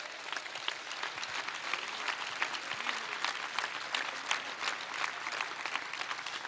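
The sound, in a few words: applause at political speech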